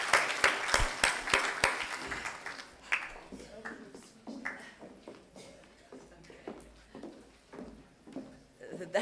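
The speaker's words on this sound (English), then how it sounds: "Can we give her a round of applause?" Scattered applause at a conference launch of a Kenya economic report, a few sharp claps at first that soon thin out into scattered taps, with voices speaking quietly underneath.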